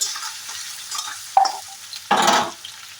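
Potato pieces fry in a pan with a quiet sizzle, broken by sharp scraping bursts of a spatula stirring them, one brief and one longer, close by and with no talk.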